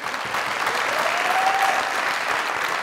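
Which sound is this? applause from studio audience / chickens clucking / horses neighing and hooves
applause from studio audience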